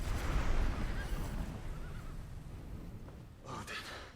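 In the video game Final Fantasy XVI, a rumbling, noisy rush fades down, then a horse gives a short, loud whinny near the end.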